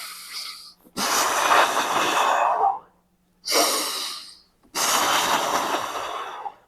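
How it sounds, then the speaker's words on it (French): Deep, forceful breathing during an isometric ankle contraction exercise, long loud close-up exhales and inhales in a slow rhythm, alone with no talking. "Pareil, je respire à fond,"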